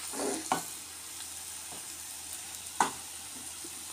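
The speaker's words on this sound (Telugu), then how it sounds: "మసాలా, ఉప్పు, కారం అంతా పట్టేటట్టు బాగా ఒకసారి కలిపేసుకుని" Bitter gourd curry with masala, salt and chilli powder sizzles softly in a pan while a spoon stirs it, giving a few sharp scrapes and clinks against the metal, close and fairly quiet.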